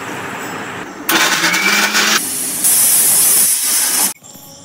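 A pressure cooker of boiling chickpeas on a wood-fired clay stove lets out strong bursts of hissing steam and whistling. They start loud after a second, shift in pitch partway through and stop abruptly near the end.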